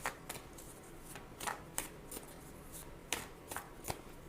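Tarot cards being shuffled by hand, a run of soft papery riffles and sharp card snaps at an uneven rhythm, close and fairly quiet with no talking.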